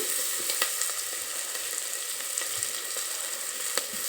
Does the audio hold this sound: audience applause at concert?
no